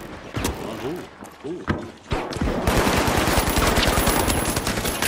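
Automatic gunfire rattles in a shooter video game, a rapid sustained burst of shots close by after voices talk over a few earlier scattered shots.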